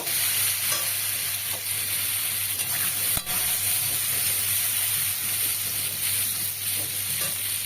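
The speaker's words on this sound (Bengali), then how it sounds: "আবারও এই তেলের ভেতরে আমি বেগুনগুলো সেম ওইভাবে আমি ভেজে তুলে নেব" Eggplant pieces fry in hot oil for a potato, eggplant and fish-maw dish, giving a steady, close sizzle with occasional stirring scrapes and a brief sharp knock near the middle.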